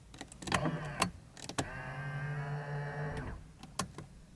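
Electric folding side mirrors on a Nissan Skyline R32 whir steadily for about one and a half seconds, a thin motor hum framed by close clicks and knocks from the switch and cabin.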